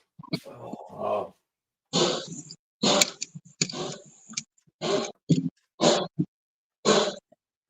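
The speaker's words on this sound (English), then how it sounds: "That's my dog." A dog grunts and growls in a series of short, throaty bursts, about eight separate rumbling outbursts broken by silent gaps, close and fairly loud, with no talking.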